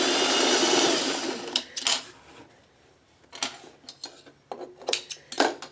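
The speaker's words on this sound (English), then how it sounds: "let me just do a little bit more sewing and then I'll be right back" A sewing machine stitches crumb quilt blocks, running in one long continuous whir and then in short stop-start bursts of stitching, up close and alone.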